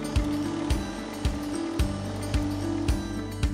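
A Junker vibration test machine shakes a bolted nut and loosens it, producing a regular series of sharp mechanical knocks about every half second over a continuous motor hum, up close and without talk.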